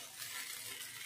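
Sago pearls (sabudana) sautéed and stirred in a pan over a medium gas flame give a soft, steady scraping sizzle with light clinks, close and alone.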